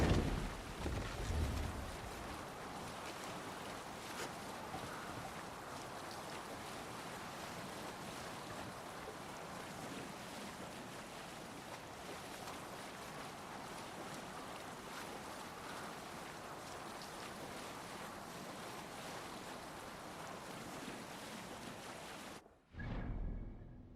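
A sailing ship moving across ocean waves in the video game Assassin's Creed Valhalla, a continuous wash of surf and wind, broad and steady, that cuts off abruptly near the end before a short burst returns.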